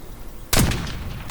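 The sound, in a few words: gunfire in the video game Warzone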